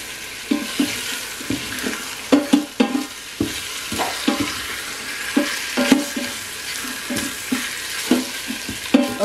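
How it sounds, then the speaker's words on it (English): Beef sears in hot oil inside an Instant Pot, a steady sizzle broken by repeated scrapes and clinks of a utensil stirring and moving the pieces around the pot. "You can hear it sizzling there, so we know it's ready."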